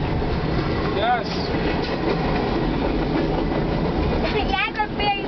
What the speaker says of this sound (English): look how big the boxcars are